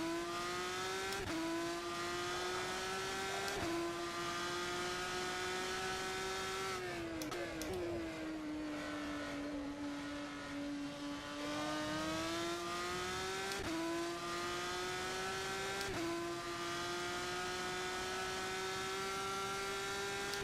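Car engine in a racing video game played on a Thrustmaster T300 wheel, a loud continuous drone that climbs and drops as the car shifts gears and accelerates, with no talking over it.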